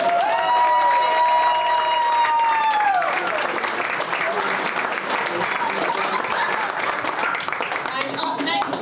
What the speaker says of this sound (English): a big round of applause for a happy couple.